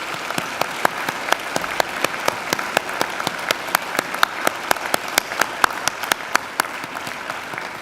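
Graduates at a university graduation ceremony give a hearty round of applause, a dense sustained crowd clapping that continues evenly at close range without pause.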